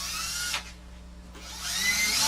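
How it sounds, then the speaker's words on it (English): A power drill spins up close by in a workshop, a brief high-pitched whir that drops off, pauses, then revs up again toward the end, with no talk over it. "Before you drill another hole through your table."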